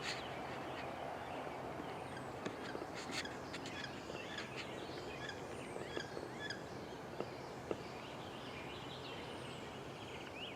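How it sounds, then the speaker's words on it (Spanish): Ducks call from a small lagoon, with scattered quacks and chirps rising over a steady outdoor ambience, mostly faint and distant with a few closer calls. "te voy a mostrar ahora unos patitos que han venido ahí y que están ahí en esta lagunita"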